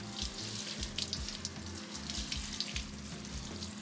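Water pours from a tap or jug onto a house plant, a steady close splashing and trickling stream that runs throughout with no voices.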